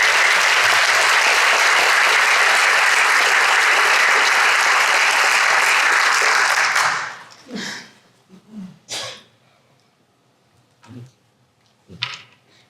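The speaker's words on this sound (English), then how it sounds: "Let's give our 6 round of applause." Loud, dense applause fills a hall at a county Teacher of the Year ceremony for about seven seconds, then cuts off abruptly, leaving a few scattered faint sounds and murmurs.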